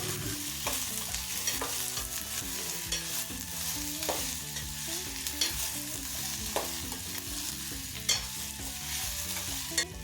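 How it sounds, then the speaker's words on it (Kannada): Thickly cut diced potatoes fry in oil with onion as a spoon stirs them, giving a steady sizzle with repeated scraping strokes against the pan, close and without speech. "ಆಲೂಗಡ್ಡೆನ ಎಣ್ಣೆಯಲ್ಲಿ ಸ್ವಲ್ಪ ಫ್ರೈ ಮಾಡಿದಾದಮೇಲೆ"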